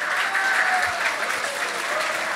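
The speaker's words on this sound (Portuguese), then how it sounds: "Uma salva de palmas pra nossa banda." Audience at a comedy hypnosis show applauding the band in a dense, steady burst of clapping with a faint crowd murmur, filling the whole short stretch evenly.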